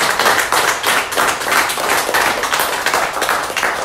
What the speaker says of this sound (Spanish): denle un fuerte aplauso otra vez a nuestra Santa Muerte